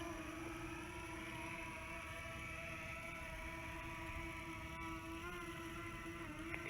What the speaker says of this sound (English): let's bring it in for a landing. And throttling down.